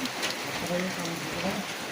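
Rain falls with a soft, even patter on surfaces at a modest level, and faint voices can be heard in the background.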